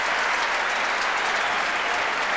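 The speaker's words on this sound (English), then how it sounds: "winning applause at Football Park" Sustained crowd applause from a packed Australian football stadium, Football Park in Adelaide, during a 1993 Crows versus Collingwood match, a steady dense roar of clapping throughout with no break.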